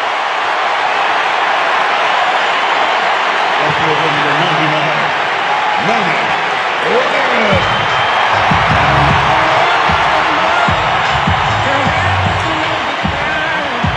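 A large baseball stadium crowd roars continuously, loud and dense, with whoops and shouts rising through the noise and voices talking beneath it.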